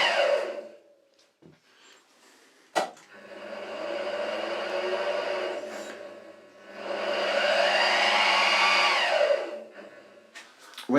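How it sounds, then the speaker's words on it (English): The motor of a new milling machine fitted with a soft start, twice spinning up into a smooth rising whine that holds steady before winding down, with a few sharp knocks between runs, close and moderately loud. "The machine's fitted with a soft start."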